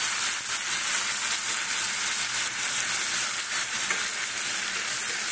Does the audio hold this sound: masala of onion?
yes